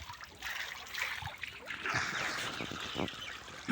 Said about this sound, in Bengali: বাবা ডুঙা করে জল ছেঁচছে